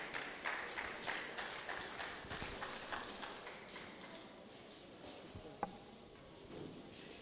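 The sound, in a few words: applause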